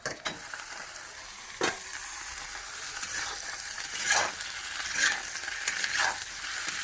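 Meat goes into a pan and fries, a moderate crackling sizzle punctuated by a few sharp stirring scrapes and clinks, fairly close with no voices.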